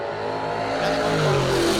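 A 1968 Dodge Dart pump-gas drag race car roars loudly and close by at a drag strip, its engine note rising steadily through a brief burst of acceleration.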